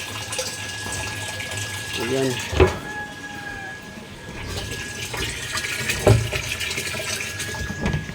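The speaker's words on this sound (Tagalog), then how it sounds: "Meron kaming pump pa na naka-install doon sa bundok para mag-igib ng tubig." A pump filling a tank with water drawn from the mountain, with a continuous rushing flow running throughout and a brief voice speaking over it.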